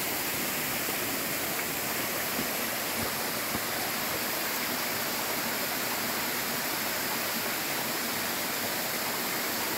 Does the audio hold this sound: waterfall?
yes